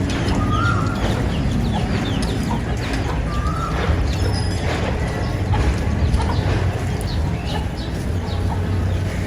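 Hen with her chicks clucking in a backyard garden enclosure, short clucks scattered through a steady noisy outdoor background, moderately near, no talk.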